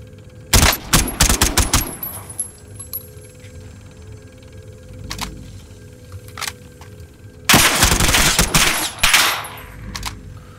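Bursts of sniper and automatic gunfire in the video game Call of Duty: Warzone, two loud rapid volleys separated by scattered single shots and quieter clicks, with no talking.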